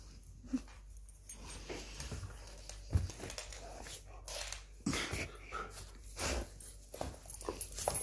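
A dog whimpers and whines softly in a quiet room, with faint rustling and shuffling around it.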